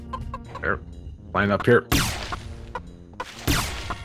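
Chicken clucking from the first-person shooter Heretic (Brutal Heretic mod) bursts out amid gunfire and game effects, with players chatting over the top.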